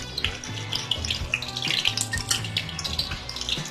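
Chicken leg pieces deep fry in hot oil until crispy, a busy continuous crackle of bubbling and popping at moderate loudness, with no voices.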